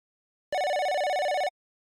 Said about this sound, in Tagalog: ay tumunog muli ang telepono ng magkaibang panahon